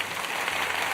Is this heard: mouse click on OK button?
no